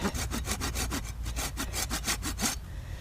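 A hand wood saw cutting through a wooden pole outdoors, rapid rhythmic back-and-forth strokes, close and steady, then stopping near the end.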